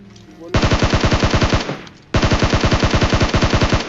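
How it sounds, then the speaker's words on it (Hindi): Loud rapid automatic gunfire from bots at a military base in a video game, two long rhythmic bursts separated by a brief pause, close and dominant. "मिलिट्री बेस में अगेन कुछ बॉट्स फायर करते हैं"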